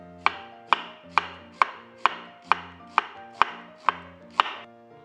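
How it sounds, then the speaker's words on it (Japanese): A knife thinly slices onions on a cutting board, landing about ten crisp, evenly spaced chops in a steady rhythm, close and clear with no talking. "玉ねぎは薄切りにします"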